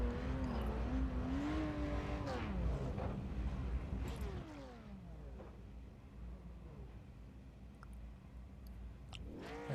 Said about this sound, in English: And there's the first pace car getting ready to roll.